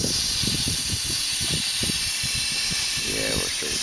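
Steam hisses steadily from the radiator of a 1914 car engine with too much pressure, a continuous bright hiss running under a man's speech throughout.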